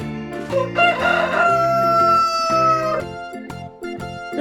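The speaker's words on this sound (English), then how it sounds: "Rooster." A farm rooster crows once, a long loud cock-a-doodle-doo close by, with playful background music underneath.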